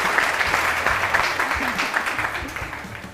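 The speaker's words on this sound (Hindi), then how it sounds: "बहुत सारी तालियां।" Studio audience on a Pakistani TV morning show applauds, a dense steady wash of clapping held at constant loudness throughout, with a faint voice briefly under it.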